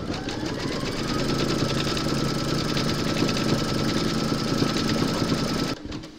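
An embroidery machine stitches a placement round to secure an appliqué collar in its hoop, a steady rapid mechanical whir running loud and close for nearly six seconds before stopping abruptly.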